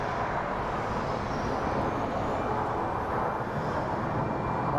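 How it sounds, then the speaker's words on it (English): A plane lands at Sky Harbor International Airport in Phoenix, a broad steady jet roar that stays loud and constant throughout, with no talk. "wow, that is a very, very loud plane"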